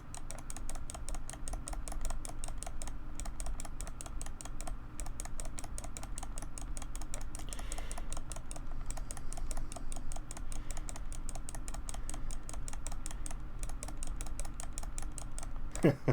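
Rapid mouse clicks while playing Diablo, a dense, steady patter of light taps continuing without a break, close to the microphone with no talking.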